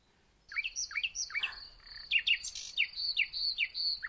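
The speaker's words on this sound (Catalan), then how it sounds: "És el rossinyol" Nightingale singing, a bright run of quick chirps, rising whistles and trills that starts after a brief quiet and keeps going in close, clear phrases over a near-silent background.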